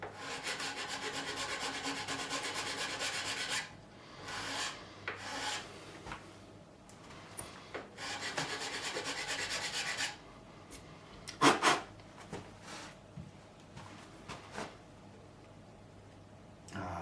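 Nut slots on a vintage Stratocaster guitar are cut with a file, giving harsh rasping strokes in bursts: a long continuous stretch, then shorter separated passes and a few sharp scrapes, close and alone.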